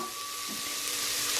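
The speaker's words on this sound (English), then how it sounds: "And fry some onions in a splash of oil." Onions frying in a splash of oil in a pan give a close, steady, bright sizzle that stays constant and slightly grows louder, with no talking.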